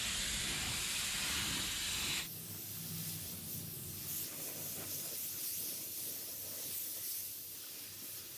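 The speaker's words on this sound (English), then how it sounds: "I'm going to put a dust coat on first, because I want to make sure there's no reaction between the sealer and this bumper cover." A spray gun dusts a light sealer coat onto a car bumper cover, a loud, close hiss lasting about two seconds that then cuts off, leaving a quieter background.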